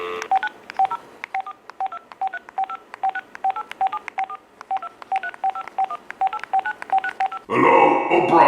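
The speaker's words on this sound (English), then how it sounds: "Computer phone, call Oprah" Rapid series of DTMF keypad tones from a computer phone, several dozen short evenly spaced beeps dialing a number, clear and close, ending in a burst of noisy sound.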